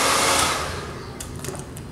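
A hair dryer blows with a steady, loud rushing whoosh close by, easing off a little, with a few faint clicks and handling noises.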